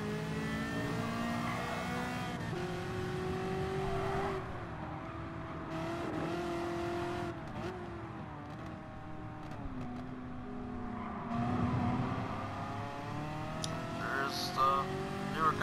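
A 1990s car's engine revs and shifts in Gran Turismo Sport, the pitch rising and falling through gears at steady close loudness, with brief tire noise near the end.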